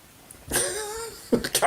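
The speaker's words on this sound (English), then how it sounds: "The cat's making a noise now." A house cat lets out a single drawn-out, wavering meow at close range, followed by a few short, rougher noises, in an otherwise quiet room.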